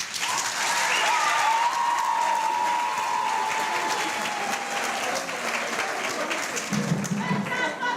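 Audience at a moot court competition award ceremony applauds steadily throughout, a full wash of clapping with a faint tone and some low rumble near the end.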